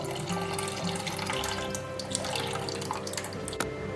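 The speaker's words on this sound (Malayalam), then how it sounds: "ഇനി നമുക്കിതിലേക്ക് നേരത്തെ കുതിർത്ത് വെച്ചിട്ടുള്ള പുളിവെള്ളം ഒഴിച്ചു കൊടുക്കാം." Soaked tamarind water is poured into a fish curry, a steady watery splash and trickle lasting a few seconds over a constant background drone, close by.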